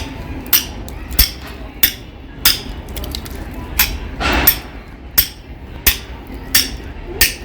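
A heavy hammer strikes black marble stone again and again, about ten sharp, loud impacts spaced roughly evenly with a brief scraping pause in the middle.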